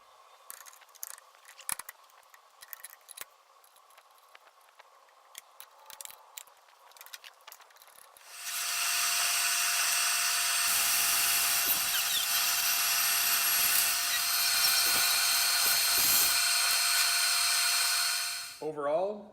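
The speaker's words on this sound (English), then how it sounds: "we're going to get this back into the table saw, and we're going to run some ash through it" Table saw fitted with a Prestige carbide blade ripping through ash wood: after light shop clatter, a loud sustained high-pitched whine of the blade in the cut for about ten seconds, then spinning down.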